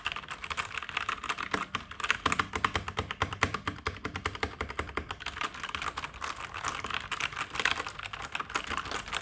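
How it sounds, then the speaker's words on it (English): Rapid, continuous clacking of typing on a VortexSeries VX5 60% RGB mechanical gaming keyboard with Outemu switches, close up and dense, with no voices. "here on YouTube we love keyboard ASMR"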